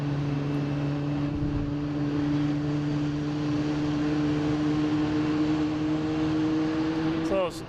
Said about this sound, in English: That's our Aeromexico coming in from Mexico City.